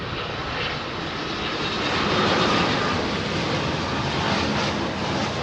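A Vistara jet airliner with Rolls-Royce engines, seen at London Heathrow at dusk, gives off a steady, fairly loud engine roar with a broad whine, alone with no talk.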